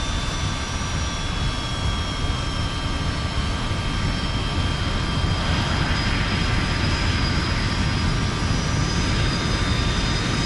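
Jet airliner engines roar steadily at takeoff power on a runway, a loud continuous broadband rush with thin whining tones running through it.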